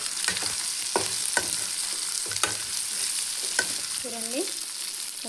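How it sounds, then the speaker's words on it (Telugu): Mutton pieces frying in a pan, a steady close sizzle with several sharp scraping stir strokes spread through, and a brief squeaky rub near the end; no talking. "ఈ మటన్ని కొద్దిసేపు వేగనించాలి."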